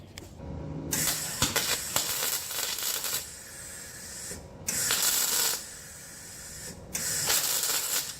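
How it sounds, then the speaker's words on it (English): Welding brackets for a 1964 Thunderbird air conditioning install: a steady crackling, hissing arc comes in several bursts of a few seconds each, separated by short pauses, fairly close and without talk. "Just put a weld across here, and same here."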